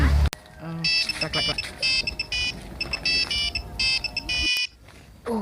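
A phone ringtone plays in quick bursts of bright, electronic beeping tones, repeating in a lively pattern for several seconds before stopping abruptly, with background voices and room noise underneath.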